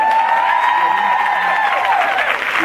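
Sustained applause and cheering from a church congregation honoring their pastor, a loud dense wash of clapping with sung or shouted tones riding over it, continuous throughout.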